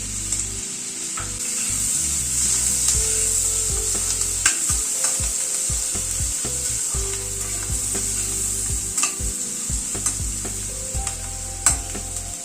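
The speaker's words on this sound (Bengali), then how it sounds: "পেঁয়াজটাকে একটু হালকা করে আগে ভেজে নেব।" Thinly sliced onion fries over a low gas flame, giving a continuous close sizzle with regular scraping stirs and the occasional knock of a spatula on the pan.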